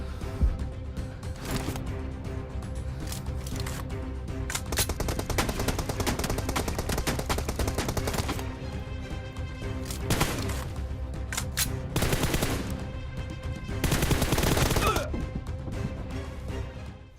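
Rapid automatic gunfire from the PUBG Mobile video game crackles in loud, dense bursts with brief pauses, sustained across the whole stretch.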